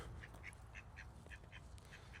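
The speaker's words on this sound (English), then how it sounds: "I'm going to try and ask these ducks for their best advice" Ducks quack near a marathon runner outdoors, a string of short, faint nasal calls repeating every fraction of a second over a low background hum.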